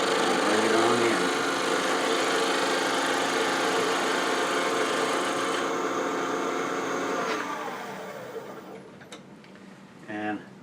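A wood lathe spins a small wooden pendant on a homemade multi-axis chuck, a steady whirring drone with a turning tool cutting, before the motor winds down and stops near the end.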